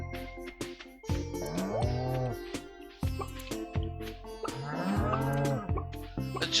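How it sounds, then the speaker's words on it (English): Cows mooing on a farm in the video game Stardew Valley, two long lowing calls with a steady patter of game sounds underneath, loud and close. "what I want to take a look at is the current state of the cows"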